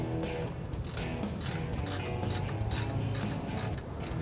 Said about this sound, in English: We will start to tension the belt by tightening the rearmost jam nut